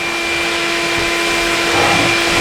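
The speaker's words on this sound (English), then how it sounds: "It's gonna be loud, the air compressor's gonna kick on." An air compressor in a workshop runs with a loud, steady motor drone and a constant whine, close by and unbroken throughout, with no talking over it.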